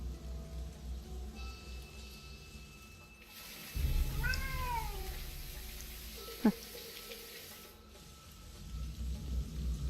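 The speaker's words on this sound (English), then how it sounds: "Just a mangy cat." A cat meows once in the video game Lost Horizon, a clear rising-falling cry, over a low rumbling ambience, followed by a brief thud.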